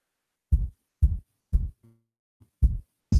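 A kick drum with boosted sub and reduced midrange, playing back in Ableton Live, thumps five times at a steady beat, deep and punchy, plus a couple of quieter low blips between hits.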